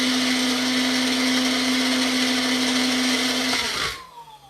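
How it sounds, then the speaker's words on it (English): Blender whirring loudly as it mixes turmeric into a plant-based egg-style salad, a steady high whine for several seconds before it switches off and winds down. "we're going to just mix that turmeric up a bit"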